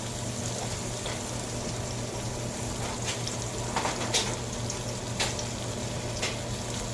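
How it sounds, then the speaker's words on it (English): Pancakes frying in butter in a pan, giving a steady close sizzle with a low hum beneath and a few soft clicks or scrapes, no voices. "Make sure I got enough butter in there to cook my pancake"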